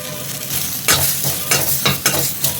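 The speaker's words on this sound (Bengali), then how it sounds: "আম ভাজা হয়ে গেছে, দেব অল্প হলুদ" Fried sour mango with a little turmeric being stirred in a pan, a steady sizzle broken by four or five loud scraping strokes of the spoon at roughly even intervals, close and clear with no voices.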